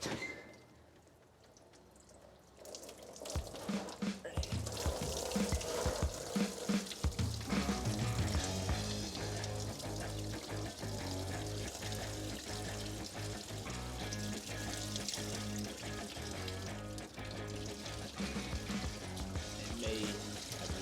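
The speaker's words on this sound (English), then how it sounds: "We're going to pull the lower hose off and let it drain into our bucket, get all the prep fluid out of there" Prep fluid draining from the lower radiator hose of a drag car into a bucket; after a quiet start, a steady, close pouring and splashing stream runs continuously with a few clinks mixed in.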